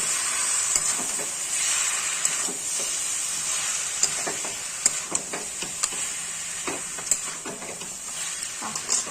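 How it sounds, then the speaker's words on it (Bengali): Cabbage and a catla fish head get stirred together in a sizzling pan: a constant bright hiss with repeated scraping knocks of the spoon, close up and without talk. "ভালো করে নাড়াচাড়া করতে হবে যেন বাঁধাকপি আর মাছের মাথা"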